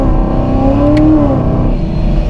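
A Hennessey Exorcist with a 1,000 hp engine revs hard and close, a loud, steady roar whose pitch sweeps upward and then settles over about two seconds.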